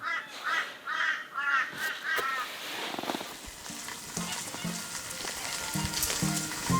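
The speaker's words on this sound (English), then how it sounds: "just watching the birds arrive in the tree" Several birds calling in a tree at an outback camp along the Canning Stock Route, Australia: a run of rhythmic harsh caws up front, then scattered chirps and clatter over a low background hum.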